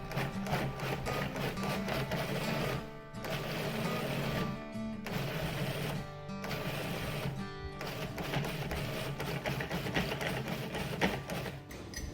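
A food processor pulses hot peppers for hot sauce, a steady loud motor whir broken by three or four short pauses between pulses, close and continuous with no talking.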